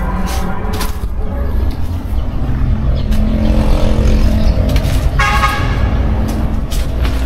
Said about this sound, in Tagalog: tabing highway lang to, may maririnig talaga tayong mga sasakyan